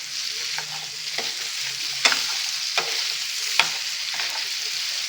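Ginger garlic paste and slit green chillies fry on a hot tawa for tawa chicken tikka, with a steady sizzle and occasional scrapes and taps of a spoon stirring, close up with no talking.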